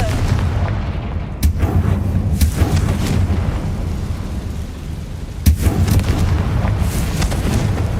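A Confringo fire spell blasts in Hogwarts Legacy, two sharp booming impacts standing out over a continuous rumbling, crackling game backdrop with no talk.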